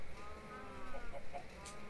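Chickens in a Minecraft Skyblock game cluck softly in a short run of faint, close clucks over a low, steady background hum.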